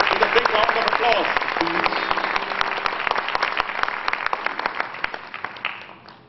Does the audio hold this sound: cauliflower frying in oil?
no